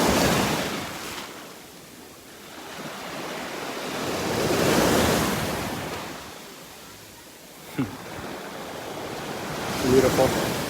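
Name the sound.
ocean waves washing on beach, North Naples, Florida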